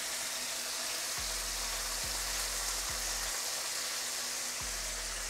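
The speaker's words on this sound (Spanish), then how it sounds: "el truquito es que se sofrían" Beef steak fries in hot oil with a steady, dense sizzle and crackle that fills the clip without pause, under a few faint low knocks.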